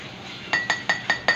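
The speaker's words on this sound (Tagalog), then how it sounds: "Ang sarap pakinggan yung tunog ng kutsara sa baso eh." A metal spoon clinks against a glass while coffee is stirred: five bright, ringing taps in a regular rhythm, close and clear, after a moment of quiet.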